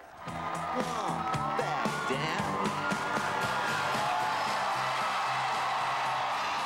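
A roaring crowd cheers in a Philadelphia ballroom at Hillary Clinton's victory rally, dense whoops and shouts mixed with rally music, loud and sustained throughout.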